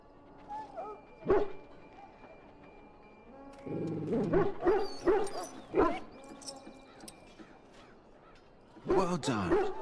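A dog in Dragon Age: Origins whimpers and gives short yelping barks in scattered bursts, with a quiet voice talking in places.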